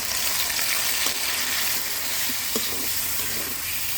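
Fish sizzle in hot oil in a wok with fried onion and green chillies, a steady close crackle with faint stirring clicks throughout.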